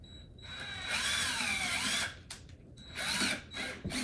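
A power drill drives a screw down through a squeaking floor into a wooden joist, whirring loud and close in two bursts with a short pause between them.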